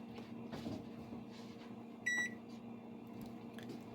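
A microwave oven's keypad gives a single short electronic beep, clear and close, over a steady low appliance hum with faint background rustle.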